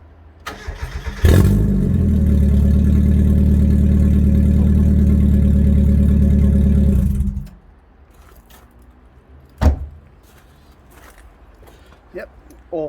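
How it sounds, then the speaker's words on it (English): A Mazda MX-5 engine with the exhaust removed, running on just the manifold, cranks and catches, then runs at a loud, steady, rough idle for about six seconds before shutting off; a few clicks and knocks follow. "whilst the exhaust is off and it's just a manifold, let's give it a start up"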